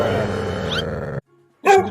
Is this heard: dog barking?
yes